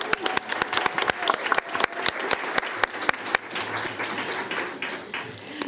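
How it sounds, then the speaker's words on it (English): A board of education business meeting breaks into a round of applause, many hands clapping steadily in a room for several seconds, close and even with no voices over it. "let's give another round of applause for Ms. Overton"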